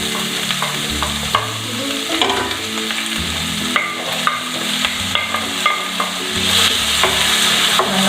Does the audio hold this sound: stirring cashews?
yes